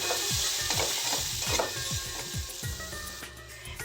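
Grated potato hits hot oil in a pan and fries with a strong continuous sizzle, while a utensil scrapes and stirs in a quick rhythm of repeated strokes close by.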